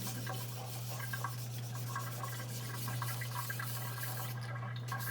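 A knife is drawn across a 1000-grit whetstone to remove the burr, giving quiet, repeated scraping rubs in a loose rhythm over a constant low hum.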